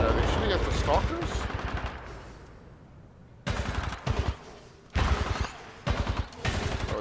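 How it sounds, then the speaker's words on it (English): Rapid bursts of gunfire from the PC shooter Titanfall 2 crackle in loud, repeated volleys in the second half, after a stretch where someone talks over quieter game noise. "I don't know what these guys are shooting at. Are they shooting at the stalkers?"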